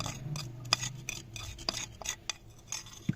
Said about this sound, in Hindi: तो एक अंडा हमने ले लिया है, इसको हम फेंट लेते हैं।